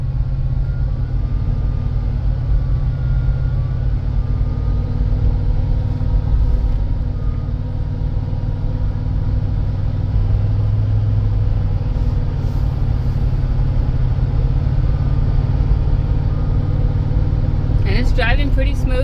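A 2003 Ford Explorer cruises at speed, a steady low rumble of engine and road noise inside the cabin, with someone talking over it.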